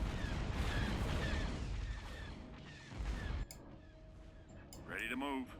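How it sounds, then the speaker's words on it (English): Ion cannons on skip ray ships fire in the space strategy game Star Wars: Empire at War, a dense stretch of rumbling blasts and booms that drops off midway, followed by faint electronic effects. "the ion cannons on the skip rays just took that out really quickly"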